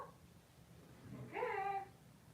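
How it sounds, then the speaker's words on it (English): A cat lets out one faint, short meow partway through, heard at a distance over a quiet indoor background. "I think I see a cat."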